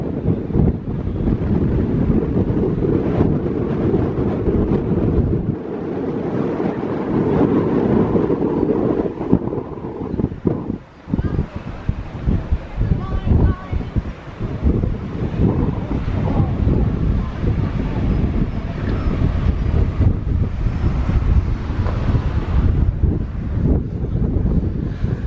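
Strong coastal wind at Hunstanton, Norfolk buffets the microphone with a constant heavy roar, gusting and dropping briefly, with a low rumble like surf in the background.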